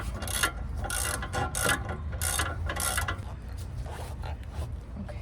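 A bolt is ratcheted tight during a brake rotor and pad replacement on a Lexus LS400, giving a loud run of rapid ratchet clicks in bursts close by, with no talk.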